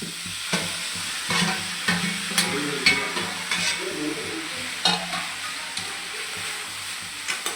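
Broccoli and baby corn being sautéed and stirred in a pan, a soft steady sizzle broken by repeated scraping and clinking strokes of a spoon, fairly quiet and close.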